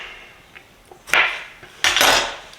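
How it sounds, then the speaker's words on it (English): A knife cutting whole pickles into inch-long chunks on a board, two clear chopping knocks with a crisp wet crunch, close and distinct against a quiet kitchen background, with no voices. "I'm just going to cut them in about inch long"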